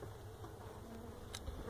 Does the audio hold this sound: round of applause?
no